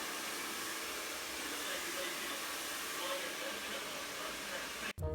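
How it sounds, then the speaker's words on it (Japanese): A hair dryer blows steadily to clear cut hair after a haircut at a barbershop in Italy, a close, even broadband whoosh that cuts off abruptly near the end. "最後にドライヤーで髪の毛を落として"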